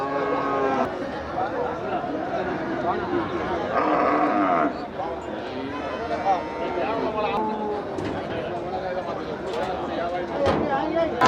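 Cattle, including a race bull, lowing and mooing at a busy livestock market, with calls rising over constant crowd chatter and people talking nearby.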